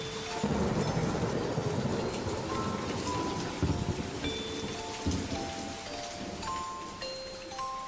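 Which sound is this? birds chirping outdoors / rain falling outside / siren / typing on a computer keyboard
rain falling outside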